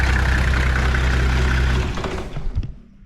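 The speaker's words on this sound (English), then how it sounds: "Nice exhaust leak down the bottom there." A car engine idles with an exhaust leak, a steady low rumble with a ticking, puffing edge that holds close and loud before easing off near the end.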